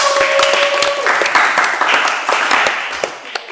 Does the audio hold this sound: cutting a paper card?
no